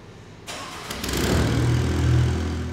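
A Ventrac 4500 tractor engine cranks and catches, then settles into a steady, loud low rumble that swells slightly as it runs.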